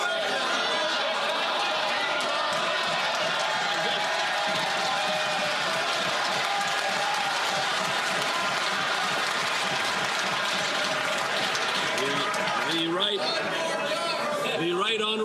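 Members of parliament in the House of Commons cheer and applaud, a steady roar of voices and scattered clapping filling the chamber, with talk running over it.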